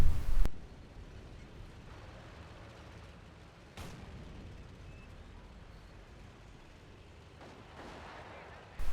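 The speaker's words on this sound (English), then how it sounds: "Some aggressive use of mortars right now." Mortar fire in a World War II strategy video game, a loud deep boom opening the clip and further blasts around four, eight and nine seconds over a steady low battle rumble.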